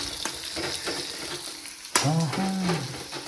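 Small pieces of dry coconut sizzle and crackle in a hot pan, a steady frying hiss with a sudden louder burst partway through as something is stirred or added, with no talking.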